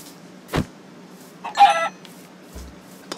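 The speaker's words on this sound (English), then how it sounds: "And a chicken." A Minecraft video game chicken gives a few short, clipped clucks in quick bursts. They are fairly clear against a quiet background, with no talking.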